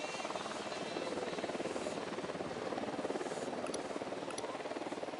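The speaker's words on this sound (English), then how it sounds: "Deploying drone." A drone hovers in a Ghost Recon Wildlands game scene, giving off a steady rotor whir with a faint rhythmic flutter that holds at a constant level throughout.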